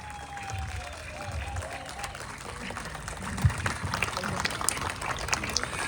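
An audience stands and claps loudly to welcome a guest at a live Nicobar concert, a steady crowd applause that is slightly distant and somewhat muffled, with a faint voice and a whistle-like tone early on.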